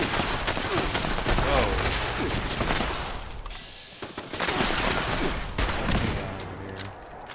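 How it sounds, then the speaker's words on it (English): Machine gun turret fire in Fallout 76, dense sustained bursts of rapid shots with a brief lull midway, loud and continuous, with a voice faintly underneath. "Oh no, machine gun turret, okay."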